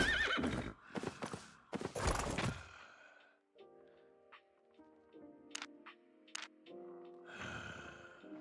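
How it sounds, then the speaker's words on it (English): A horse in the Albion Online video game neighs loudly in a few bursts, then its hooves clip-clop in a light, uneven rhythm with a snort near the end. "I can use their horse."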